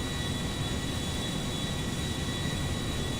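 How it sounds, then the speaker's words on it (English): A Boeing 747 passenger jet in GTA Online drones with a loud, constant engine roar, broadband and steady with a faint high whine on top, heard alone with no talking. "I'm thankful Rockstar let us drive, or fly, sorry, 747s."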